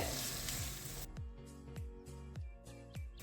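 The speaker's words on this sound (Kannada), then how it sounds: "ಈಗ ತುರಿದು ಇಟ್ಕೊಂಡಿರೋ ಮಾವಿನಕಾಯಿನ ಹಾಕ್ಕೊಳ್ತಾ ಇದ್ದೀನಿ. ಇದು 1 ನಿಮಿಷ ಫ್ರೈ ಮಾಡ್ಕೊಳ್ಳೋಣ" Grated raw mango and onions frying in a pan, a loud sizzle that drops after about a second into quieter crackling, broken by regular scraping strokes of stirring.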